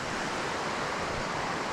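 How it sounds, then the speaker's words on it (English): Fast-moving water rushing past a campsite, a dense, steady roar of flowing river, close and loud, continuous and unbroken, with no voices. "It's fast moving water."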